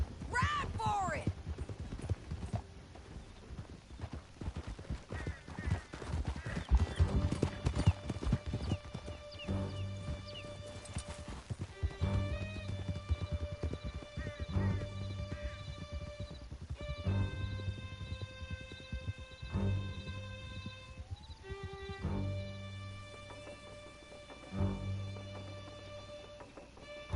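Horses galloping in Red Dead Redemption II, steady rhythmic hoofbeats near and clear with a horse whinnying, under game music and brief speech.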